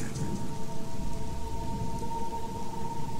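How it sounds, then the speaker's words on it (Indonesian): Heavy rain pours down in a steady, dense hiss of drops striking surfaces, constant and fairly close, with low rumbling beneath and no voices. "hujan turun dengan deras."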